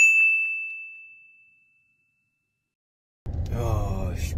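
KakaoTalk message notification, a single clear bright ding that rings out and fades slowly into silence, followed after a pause by a person starting to talk.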